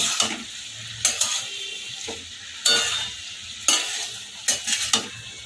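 Winter vegetables with a pinch of salt are stirred and mixed in a frying pan for prawn chorchori, with a spoon scraping in several bursts over a soft sizzle, up close and free of speech.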